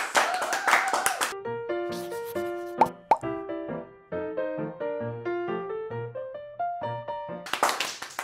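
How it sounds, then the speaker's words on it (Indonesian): People clap their hands in short, busy bursts at the opening and close. Between the bursts, a bright plucked melody of clear tones plays alone. "Tepuk tangan semuanya guys."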